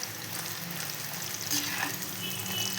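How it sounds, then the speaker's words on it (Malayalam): Soaked chickpeas fry in hot oil for a spicy masala snack, a steady, faint sizzle and crackle with no voices over it. "വേഗം ഫ്രൈ ആയിട്ട് കിട്ടുന്നുണ്ട്. എണ്ണയൊന്നും കുടിക്കുന്നൊന്നുമില്ല."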